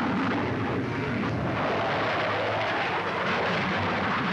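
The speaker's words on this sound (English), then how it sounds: "Described as the most advanced plane of its type, the Lockheed Starfighter goes through its paces." A Lockheed F-104 Starfighter jet fighter flies past with a steady, loud, broadband roar that holds at constant intensity throughout.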